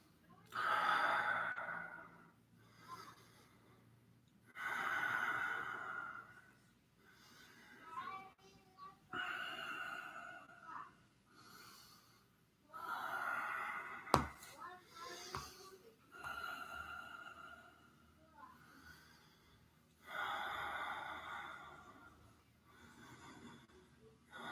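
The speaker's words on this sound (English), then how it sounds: "Deep breathing." Deep, slow breathing during a yoga session in a front-back splits pose, a series of long audible exhales and inhales repeating every few seconds, soft and close.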